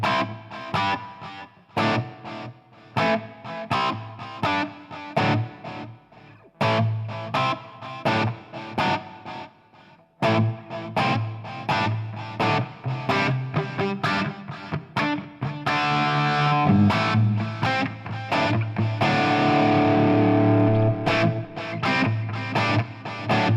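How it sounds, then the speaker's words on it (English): Electric guitar played through a Fractal unit with a parallel ambient delay effect, producing rhythmic strummed chords with distorted tone and repeating echoes that thicken into a dense wash toward the end, loud and up close with no speech. "I can hear the dry sound in the center and the feedback of the delay left and right."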